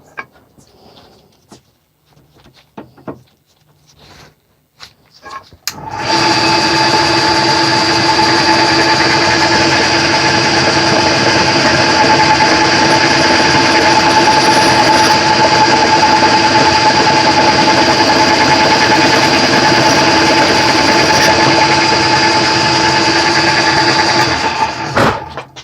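A small drill bores out a hole in a Dell'Orto SI 24-26 Vespa carburetor to 2.5 mm. After a few seconds of light handling clicks, a close, steady high-pitched motor whine runs unbroken for about twenty seconds.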